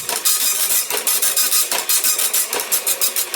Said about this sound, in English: The paper had holes on the side to feed it through the printer that you had to rip off after you were done printing. And this is what it would sound like.